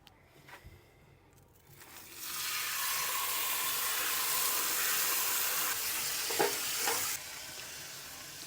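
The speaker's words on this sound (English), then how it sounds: "get that on the barbecue, let that cook through." Marinated meat hits a barbecue over medium heat and breaks into a loud, steady hiss that holds for several seconds, with a few clinks and light handling noises at the start and end.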